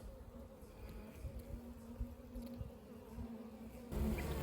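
Honeybees buzzing on frames pulled from a hive being requeened after a drone-laying queen, a steady close droning hum with a few louder passes near the end.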